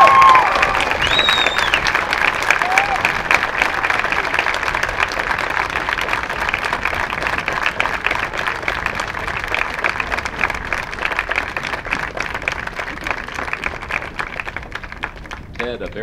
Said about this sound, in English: would you please rise and give a round of applause to Vinny's family in his memory